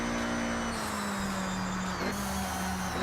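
An all-wheel-drive Honda Beat on off-road tires in a racing game drones with a steady engine hum under loud, constant wind and road noise, and the pitch dips briefly as it shifts.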